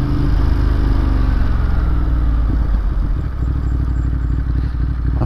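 A motorcycle ridden at night in urban mode in British winter, its engine a loud, steady drone with a low rumble and rattling clatter running continuously throughout.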